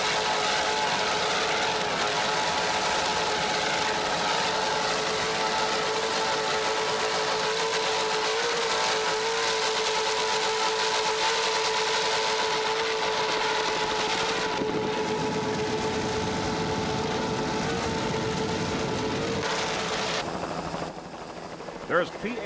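A 32-foot offshore racing superboat with three 2.5 Mercury outboards roars through a powerboat grand prix off Montauk, a loud, steady, sustained engine drone for many seconds that drops away abruptly near the end.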